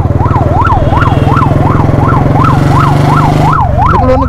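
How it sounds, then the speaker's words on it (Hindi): An ambulance siren wails close and loud in road traffic, its rising and falling tone repeating rapidly about every third of a second over a heavy engine drone before shifting pattern near the end. "एम्बुलेंस आ रही है"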